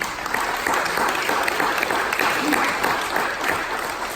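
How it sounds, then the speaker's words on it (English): Parish awards ceremony audience breaking into applause, a full, even wall of clapping from many hands at close range, sustained throughout the few seconds without letup. "That deserves a round of applause"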